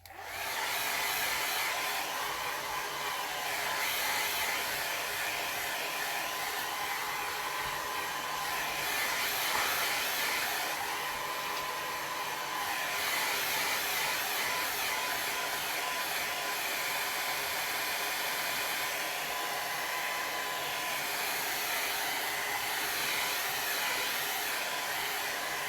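A hair dryer blows steadily on a watercolor landscape painting, a loud, continuous close whir lasting throughout with slight shifts in pitch as it moves, with no talking.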